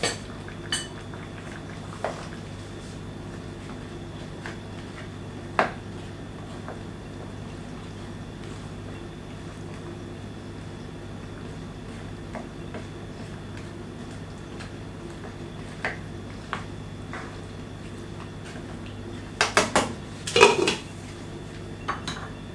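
Pots, lids and cutlery clatter sporadically while chicken curry with potatoes simmers on the stove, with a cluster of louder metallic clanks near the end over a steady low kitchen hum.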